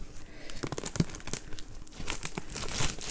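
Close, continuous crinkling and rustling of stiff metallic paper in a Sahara-sand color being pulled out of a box, with sharp crackly bursts throughout.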